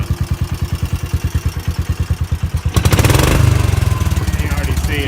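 A Kawasaki Mule 610 utility vehicle engine, recently hydrolocked, idles with a loud rapid chugging pulse, then revs up into a rougher, busier roar as it warms, close and dominant.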